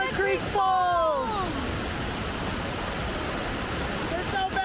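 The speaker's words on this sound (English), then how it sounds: "Naramata Creek Falls!" Naramata Creek Falls, a large creek waterfall, gives a steady broadband rushing roar close by, with an excited voice speaking over it at the start and briefly again at the end.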